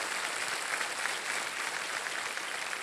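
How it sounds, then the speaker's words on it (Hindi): Studio audience applause on the Hindi quiz show Kaun Banega Crorepati, a steady, even wash of many hands clapping at once, sustained throughout without a break. "तालियां बज जाए उनके लिए"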